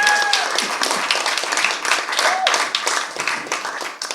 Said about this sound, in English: A round of applause for Mark, everybody.